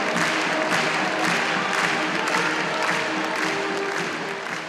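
A large bullfight crowd in a Lisbon arena cheers and applauds for the bull, a dense, steady roar of many voices and clapping that holds loud throughout and eases slightly at the end.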